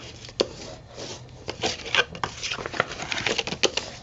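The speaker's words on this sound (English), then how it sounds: "Then you're gonna just go ahead and burnish your pages, your score marks, real quick." Score marks on paper pages for a candy box craft are burnished with quick, irregular rubbing strokes, soft and close, with no voices.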